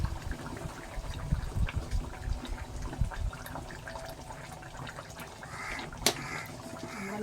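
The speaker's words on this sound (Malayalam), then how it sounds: "രണ്ടിനും മീൻകറിക്കും അവിയലിന് കുറച്ച് പച്ചവെളിച്ചെണ്ണ ഒഴിച്ച ഒഴിക്കാം" Raw coconut oil is poured over fish curry and avial in a home kitchen: a soft, faint liquid trickle with light splashy bursts, including one sharper splash late on.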